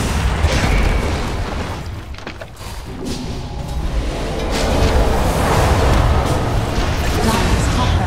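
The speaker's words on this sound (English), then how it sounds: "Dire's top barracks has fallen." Heavy, rumbling booms and crashing noise fill the scene as the Dire barracks are destroyed in a Dota 2 match. The sound is loud and dense throughout, swelling again toward the end.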